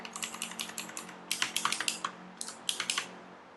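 Fast, light typing on a computer keyboard while a WordPress article is written, in quick bursts of close, crisp key clicks with short pauses between runs.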